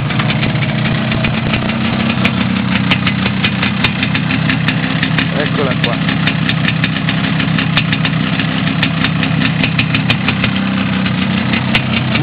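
A Cagiva Ala Verde SST 250 motorcycle engine idles steadily and loudly up close with a rapid, slightly knocking rhythm, while someone speaks briefly over it.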